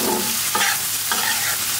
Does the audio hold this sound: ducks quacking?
no